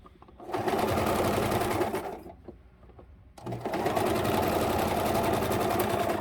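A sewing machine stitches elastic onto a wool diaper cover in steady, loud, fast whirring runs, pausing briefly in the middle before starting up again at full speed.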